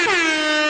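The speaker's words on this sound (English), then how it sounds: "And then an air horn." A single loud air horn sound effect blasts alone, a long sustained tone with a slight upward swoop at the start, lasting under a second.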